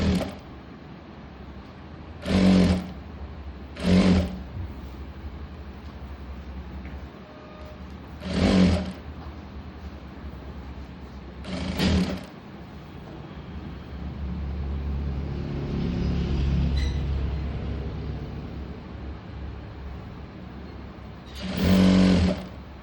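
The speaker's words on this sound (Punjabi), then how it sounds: "ਹੁਣ ਆਪਾਂ ਲਾਵਾਂਗੇ ਸਲਾਈ" A sewing machine stitches the sleeve of an umbrella frock in several short bursts of whirring needle runs, separated by quiet pauses, with a low rumble building in the middle stretch, close by, and no talking.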